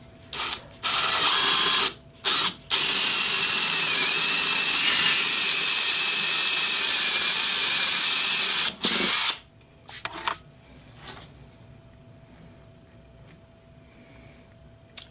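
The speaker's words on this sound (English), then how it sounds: "So I'll be using the 3/8, which requires a 3/8 drill bit. Just going to drill in a little bit for that." A drill bit bores a 3/8 inch hole into wood turning on a Laguna Revo 1836 lathe, giving a loud, steady whine with a few short stops early on. The whine ends about two-thirds through, leaving quiet workshop noise.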